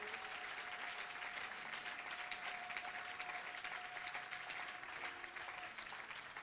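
A church congregation applauding in worship, steady, moderately distant clapping running continuously, with a sustained tone droning beneath it.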